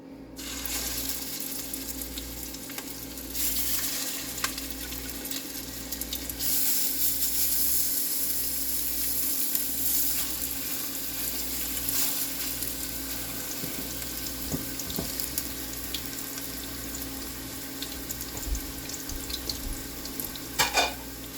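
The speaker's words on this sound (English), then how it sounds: "Now, let's saute them in the pan. We got our pan hot." Mushrooms and burger steak sauté in a hot pan, giving a steady close sizzle with occasional stirring scrapes and clinks, no talking.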